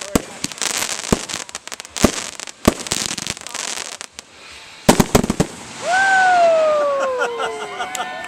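Fireworks burst at an outdoor show in Mt Hope, Wisconsin, with a run of sharp crackling bangs and booms, then a louder blast followed by rising whistles near the end, while a crowd murmurs faintly.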